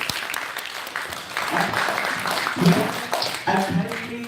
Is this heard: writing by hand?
no